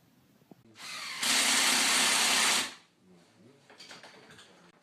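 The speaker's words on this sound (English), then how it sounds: "drill holes in the tree and then plug them with a branch." A power drill boring a hole into a tree trunk, one burst of about two seconds that starts loud and close, then stops, leaving quiet background.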